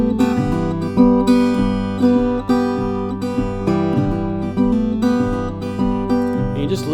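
Guitar playing the one-chord song 'Old Dog Blue', strummed steadily and densely with full, droning harmonics and rhythmic accents, loud and close with no voices.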